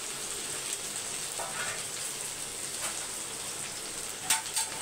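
Mint leaves sautéing in a pan for chicken biryani, giving a steady close sizzle and crackle with faint stirring scrapes and a slightly louder clatter near the end.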